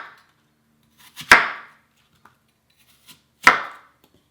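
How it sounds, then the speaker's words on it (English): Knife cutting an apple into fine chunks on a board, two crisp, close chops about two seconds apart with quiet handling clicks between them and no voices. "we want to cut these up into fine little chunks"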